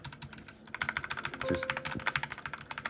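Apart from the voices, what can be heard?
typing on a tenkeyless keyboard with red linear switches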